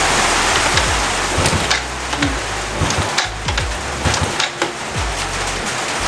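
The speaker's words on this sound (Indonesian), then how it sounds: "Hujan lagi, guys." Steady rain pours down outdoors as a dense, continuous hiss with scattered drips and ticks, loud and close throughout, with no voices.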